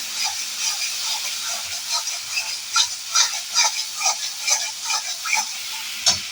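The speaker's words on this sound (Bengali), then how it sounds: "ওই যে এখন আমি খুব মশলাটাকে কষাচ্ছি।" Spice paste sizzling and frying in a pan for a kofta curry, a steady crackling hiss with soft scraping stirs at a regular pace, close and moderately loud with no talk.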